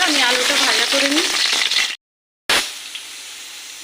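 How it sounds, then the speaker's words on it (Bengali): Oil in a kadai for frying potatoes, a bright close sizzle under a short stretch of speech, cutting out briefly before the hiss resumes more softly. "দেখো, আমি কড়াইতে তেল দিয়ে দিলাম,"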